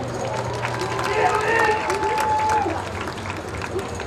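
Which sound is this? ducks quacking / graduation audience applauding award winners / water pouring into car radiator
graduation audience applauding award winners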